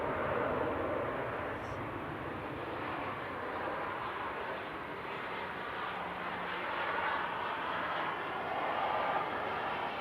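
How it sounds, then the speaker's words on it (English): A Boeing 737-800 arriving from Girona touches down at Manchester Airport, a steady broad jet roar heard from a moderate distance that swells slightly toward the end, with no talking. "Right now from Girona, just touching down, flight 3213 EIDLV"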